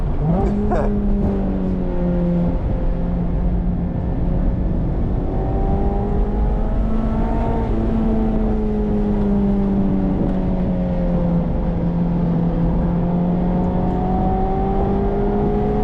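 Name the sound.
Mazda Miata ND3 engine revving while driving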